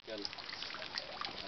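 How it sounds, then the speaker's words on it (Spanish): Water pours steadily from a spout at a spring-fed public basin in Chinameca, a continuous close trickling and splashing with faint voices in the background. "Por ahí se ve cómo sale el agua del chorro."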